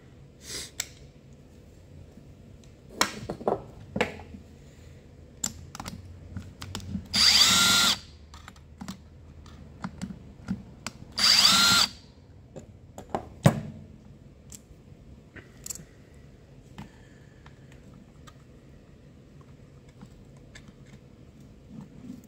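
Power tool backing bolts out of a Stihl MS390 chainsaw during a rebuild, two short loud whirring bursts separated by scattered clicks and clanks of handling parts, no talking.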